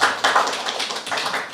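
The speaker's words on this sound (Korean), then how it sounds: "우리 박수로 한번 환영하죠." A church congregation claps in welcome during a Sunday service, a dense burst of applause that fills the short moment at moderate loudness without talk.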